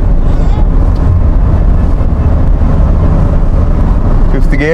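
A Mahindra XUV300 SUV accelerating hard through third, fourth and fifth gears, with loud sustained engine and road roar and heavy wind rush throughout, close and continuous.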